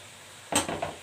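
Floured pieces of liver drop into hot oil with a sudden loud hiss and crackle that starts halfway through and fades. No one speaks.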